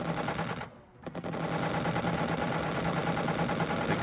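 Aircraft guns fire in rapid continuous bursts in the video game Xenonauts, loud and dense, broken by a brief pause before the rattling resumes over engine noise.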